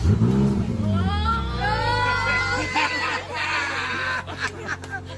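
A restored car engine starts and revs loudly up close, its low drone steady throughout, while several people talk, shout and laugh excitedly over it.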